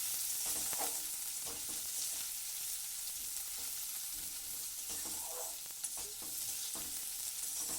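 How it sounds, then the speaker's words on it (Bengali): Chopped onions sizzle in hot oil after tempering spices, a soft steady frying hiss with occasional scrapes and taps of stirring, fairly quiet and with no voices. "পেঁয়াজটাকে দিয়ে একটু ভাজা ভাজা করে নেব।"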